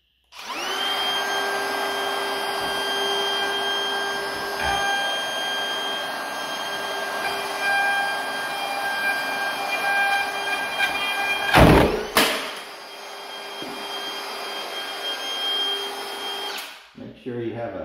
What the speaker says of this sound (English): Make sure you have a good grip on your router when you do that.